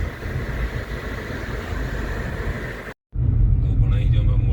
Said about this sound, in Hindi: इंजन स्टार्ट हो गया? ईवी पे है इंजन पे?